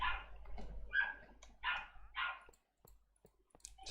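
A pet dog lets out a run of four or five close, sharp barks in quick succession, then falls quiet against faint room noise.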